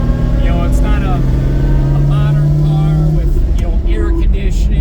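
A 50-year-old Lamborghini Miura SV drives through Chicago city traffic, its engine a loud, close, steady drone with rising and falling pitch as someone talks over it.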